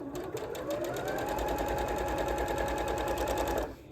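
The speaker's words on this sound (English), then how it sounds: "we want to stitch corner to corner on" A sewing machine stitches fabric doll pieces corner to corner, a fast steady mechanical whirr with rapid even needle ticks, close and continuous, stopping abruptly near the end.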